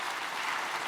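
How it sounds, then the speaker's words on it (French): Conference attendees at a straw-building congress give a brief, dense round of applause for a presenter, an even burst of many hands clapping with no voices over it. "Merci beaucoup Sabine, et qu'on peut applaudir bien fort."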